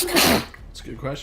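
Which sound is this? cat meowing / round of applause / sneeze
sneeze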